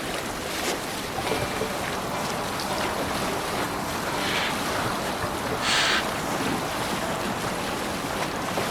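A Viking longship sails over the waves in Assassin's Creed Valhalla, with a steady wash of water and wind noise throughout and faint creaks and splashes, without talk.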